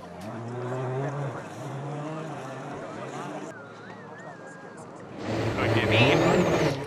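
A WRC rally car at the Monte Carlo rally, nursing a failing alternator on snow, drones along under a commentator's voice, with a louder engine surge near the end.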